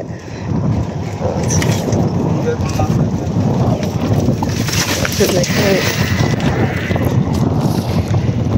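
Steady, loud wind rumbling across the microphone throughout, with a faint watery wash beneath it, beside a river where fishing nets are being cast.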